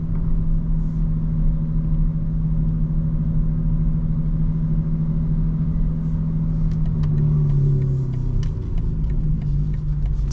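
A 2025 BMW M4 (G82) cruises at night on a busy street, its engine a steady loud low rumble with a slight pitch shift near the end.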